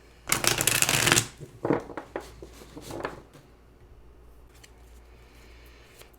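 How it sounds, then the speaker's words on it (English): Close, crisp riffling of tarot cards being shuffled, a dense burst followed by a few shorter flicks and taps, then quiet room tone. "So let's shuffle the cards"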